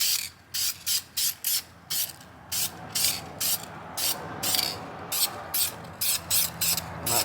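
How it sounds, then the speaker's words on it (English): Short, sharp hissing bursts of a spray can painting a car rim repeat in a quick, uneven rhythm, each puff about half a second, close to the listener. "let's get to spraying. So watch me how I spray,"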